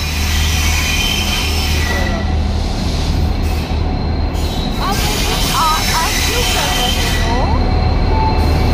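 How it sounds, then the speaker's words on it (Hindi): A train pulls into a station platform, its rumbling carriages and squealing wheels loud and continuous throughout, with people talking nearby. "तो फाइनली ट्रेन आ गई हमारी, आती दिख रही है।"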